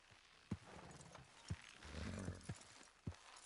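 Horse hooves in the Red Dead Redemption 2 video game, faint clip-clop steps landing at a slow, even pace about once a second, with a soft rumble of movement between them.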